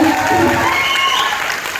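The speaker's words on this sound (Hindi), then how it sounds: "महान गुरु फिरोज सर के नाम से ताली होना चाहिए" A crowd claps steadily and loudly throughout, with a voice calling out over the applause.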